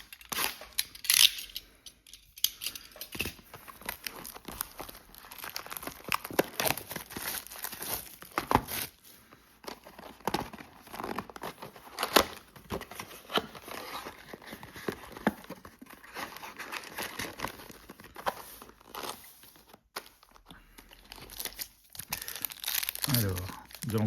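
Crinkling and tearing of foil wrappers as NBA Prizm trading card retail box packs are opened, with steady rustling and crumpling throughout, close up, while a person talks over it.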